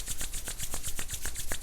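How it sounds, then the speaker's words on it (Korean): Palms rub briskly together to warm them during a breathing meditation session, a soft, steady swishing friction with faint rhythmic pulses, quiet and close. "손 뜨겁게 비비셔서요"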